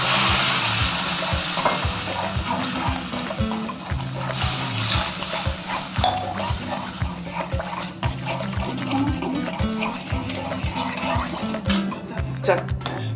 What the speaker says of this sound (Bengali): একটু ভালো করে ভেজে নেবো এটাকে